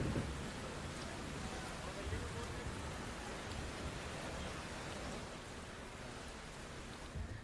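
Heavy rain in Washim pours as a steady dense hiss with low rumbling undertones, even and continuous throughout, with no voices over it.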